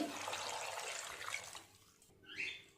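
Water runs and splashes into a pressure cooker holding jackfruit for boiling, a soft pouring rush that stops, followed by a brief faint trickle.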